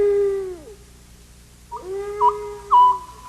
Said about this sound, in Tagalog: Yun ang screech owl